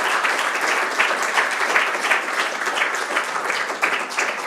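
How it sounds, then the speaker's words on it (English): An audience in a room applauds a guest named Kevin, a steady, lively wave of many hands clapping at close range, holding an even level throughout without any voices on top. "let's give a round of applause to Kevin"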